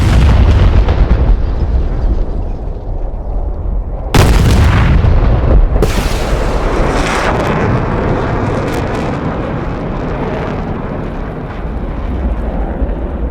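Heavy missile impact explosion from an RB-05A air-to-ground missile in the DCS AJS37 flight simulator: a loud, sustained low rumble with sharp bursts of blast roughly four and six seconds in, fading slowly into lingering roar.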